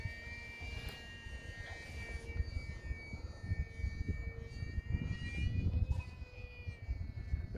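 An E-flite UMX Timber X small RC plane flies at night, its electric motor giving a steady, faint whine that rises and falls slightly as it passes, with no talking.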